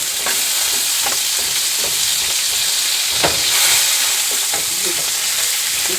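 Onions fry and brown in a Teflon pan with a steady, loud sizzle and hiss. A few faint scrapes and clicks of stirring sound over the frying.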